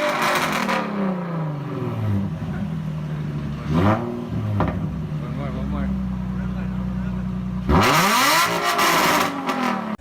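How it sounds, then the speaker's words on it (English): A Nissan 350Z with a straight-piped exhaust revs loudly close by, blipping up sharply and settling back to a rumbling idle between the rises, then roaring hard again near the end. "here's a straight piped 350z"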